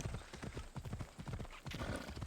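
Hooves of a horse clip-clop in the video game Tales of Atlantis. The steady, quick trotting beats are close and fairly quiet, with a brief swell of softer noise near the end.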